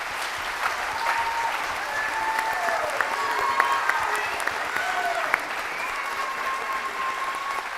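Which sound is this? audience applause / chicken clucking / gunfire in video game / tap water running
audience applause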